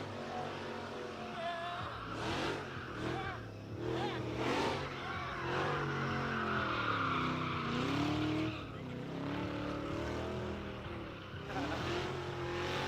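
A drift car revs hard at the Big Indian drift pit, its engine roaring continuously with rising and falling pitch and tire squeal, while people talk over it.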